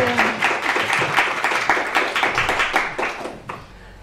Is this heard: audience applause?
yes